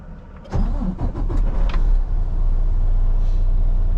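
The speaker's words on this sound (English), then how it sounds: "We'll get this thing fired up here." A Detroit diesel in a rented Freightliner Cascadia semi truck with about 13,500 miles cranks briefly and catches, then settles into a loud, steady idle rumble close by.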